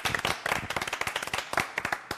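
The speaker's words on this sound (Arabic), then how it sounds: "صفقوا" A crowd claps in a burst of sharp, irregular hand slaps on a village cooking competition show, loud and close, with no talk over it.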